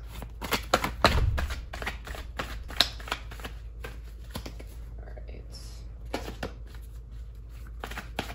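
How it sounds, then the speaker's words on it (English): Quick, crisp card shuffling up close, a rapid run of light taps and flicks, with a brief soft spoken remark near the start. "Just gonna shuffle really quickly over here."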